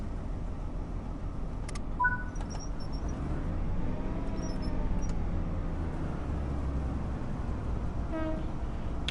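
Train departing in Train Sim World 6 on the Thames Valley Branches, a steady low rumble of rolling stock building gradually, with brief horn-like tones and electronic chimes over the rumble.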